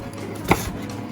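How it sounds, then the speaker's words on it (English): A single crisp knife chop through an onion on a cutting board, one sharp thunk in the middle of a quiet kitchen moment. "and dice up that onion"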